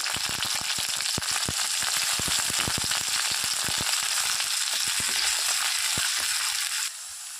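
Fenugreek seeds sizzle in hot oil with crushed garlic in a home kitchen pan, a steady loud frying hiss dotted with sharp popping crackles, easing slightly at the very end.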